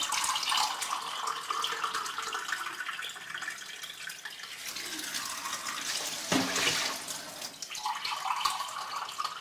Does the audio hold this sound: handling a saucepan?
no